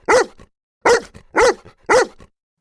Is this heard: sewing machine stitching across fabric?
no